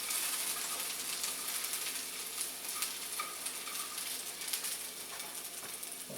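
Egg foo yung ingredients fry in a pan while being stirred, making a dense, steady hiss of sizzling with faint scraping, close and unbroken, with no talking.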